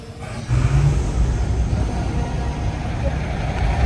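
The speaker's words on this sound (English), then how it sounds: "see if this guy will just rev the shit out of his tractor" A tractor engine rumbles deep and loud at a truck show, a heavy low growl that kicks in after a brief pause and holds steady, with people's voices mixed in over it.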